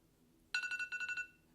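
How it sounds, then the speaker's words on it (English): A phone alarm rings in rapid bright pulses, about eight quick beeps over roughly 0.7 seconds after a quiet start, fairly faint against a low room background, with no talk. "And that's our alarm."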